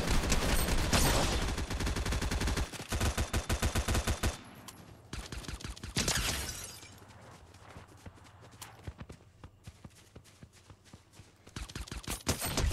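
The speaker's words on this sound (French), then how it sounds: "Voilà, le retour du pistolet." Pistol gunfire in the video game Fortnite comes as rapid trains of sharp, loud shots, then as scattered single shots with some pauses between them.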